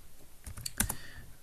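A few quick keystrokes on a computer keyboard while a terminal command is entered, a short cluster of light clicks with one sharper tap, close and fairly quiet against a low background hiss.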